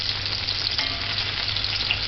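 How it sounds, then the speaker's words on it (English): Onion, scallion and garlic stir-fry in a hot pan, giving a steady close sizzle with a light scraping stir, with no voices. "Stir fry the onion. And the scallion and the garlic."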